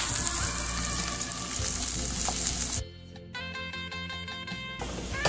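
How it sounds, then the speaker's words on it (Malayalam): Curry leaves dropped into onions tempering in oil for a salmon fish curry, a loud close burst of crackling sizzle that settles into a quieter spitting fry with a faint tonal hum, then rises again. "ഈ താളിക്കുന്ന ഉള്ളിയിലേക്ക് ഞാൻ കുറച്ച് കറിവേപ്പില ഇടുന്നുണ്ട്."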